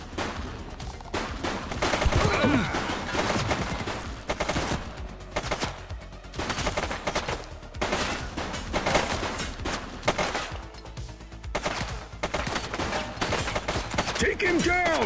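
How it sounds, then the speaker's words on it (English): Rapid, loud bursts of gunfire crackle almost continuously in a police shootout in The Precinct video game, with dense volleys repeating in an uneven rhythm. "He's shooting!"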